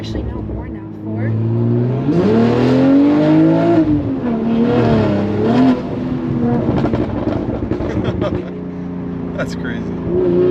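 A BMW G42 M240i fitted with a Valvetronic Designs exhaust revs up and settles in loud, sweeping rises and falls of engine pitch at close range, with people talking over and around it.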